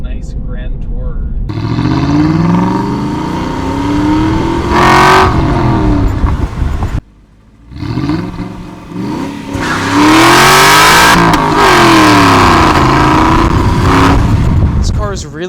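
An Aston Martin V8 Vantage engine revs and accelerates loudly through rising gear pulls, around 3,000 RPM in third gear at half throttle, dropping briefly between them, with a voice talking over it.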